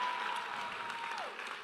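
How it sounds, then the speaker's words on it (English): Crowd applause at a crowning ceremony in Seattle, a dense steady burst of many hands clapping, sustained and fairly loud for a short stretch. "let's clap it up for all the Kings that aren't here"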